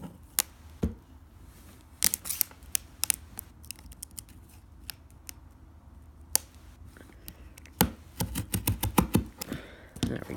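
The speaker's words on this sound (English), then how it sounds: "Let's unwrap the plastic. Let's get a knife quick." Knife slicing and plastic wrap being peeled off a sealed box holding an autographed full-sized NFL football helmet: scattered sharp crackles and cuts, sparse at first and then a dense burst of crinkling toward the end, close and fairly loud.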